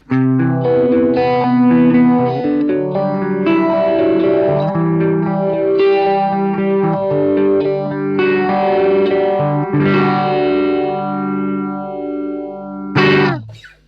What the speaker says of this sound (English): the final thing I want to try is just a bit of good old Phase 90,